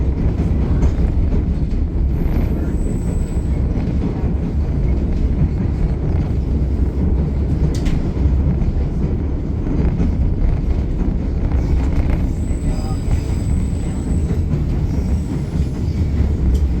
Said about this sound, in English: We are about to take our loop in the track, which will turn our train around